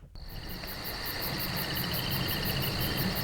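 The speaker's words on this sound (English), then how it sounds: "Oh, I have some crickets." Steady, dense cricket chirping fills the air, a continuous high trill with a faint pulsing rhythm and low background rumble, no voices.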